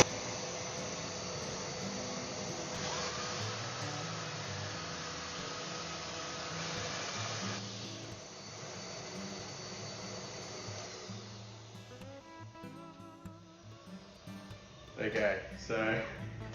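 A Makita M9400B belt sander runs with a vacuum hooked up for dust extraction, giving a steady, loud broadband whir that holds for most of the stretch before easing and turning uneven near the end.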